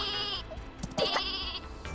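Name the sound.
sheep weapon bleating in video game Worms W.M.D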